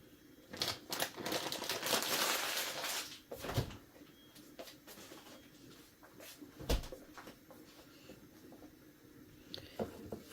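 Stale bread and grated cheese being stirred together in a bowl for Algerian croquettes, giving soft scraping and clacking knocks at an irregular pace, fairly close and quiet, with occasional sharper taps against the bowl.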